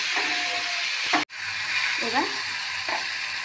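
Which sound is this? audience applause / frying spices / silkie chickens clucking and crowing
frying spices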